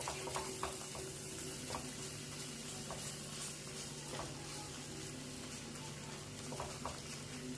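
Masala spice paste sautéing in oil in a pan for misal pav, with a steady low sizzle throughout and a few faint clinks of stirring, moderately near with no talk.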